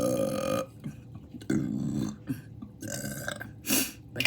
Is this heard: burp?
yes